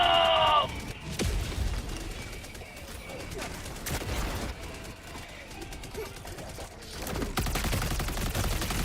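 Automated sentry turret gunfire in the video game Helldivers 2, heard as sharp bursts of rapid shots separated by pauses, amid battle noise, with a player talking briefly near the start.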